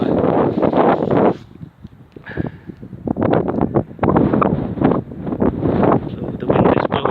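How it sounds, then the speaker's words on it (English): Wind gusts on Mottistone Down, an open hilltop after sunset, hitting the microphone in loud, ragged bursts, with a brief lull in the middle before the buffeting returns. "So the wind is blowing up"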